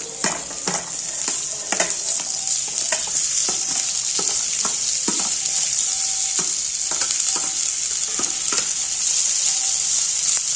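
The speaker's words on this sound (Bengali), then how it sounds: "এইটা আমি এবার ভালো মতো এর সঙ্গে পুরো একদম ভাজা ভাজা করে নেবো" Steady, loud frying sizzle of a vegetable mixture for veg balls in a pan, with repeated scraping and stirring clicks throughout, no voices.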